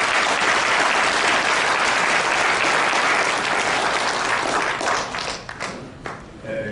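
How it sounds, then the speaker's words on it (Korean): Loud, dense audience applause welcomes guests at a launch rally in Korea, sustained for several seconds before thinning out into scattered claps at the end. "우리가 힘찬 박수로 환영의 박수를 보낼까요?"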